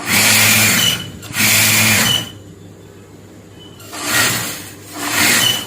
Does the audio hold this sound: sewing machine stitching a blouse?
yes